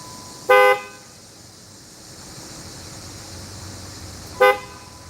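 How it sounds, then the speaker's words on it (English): A car horn honks twice, each a short, bright toot several seconds apart, over a low, steady outdoor background. "I know there's the honking person too."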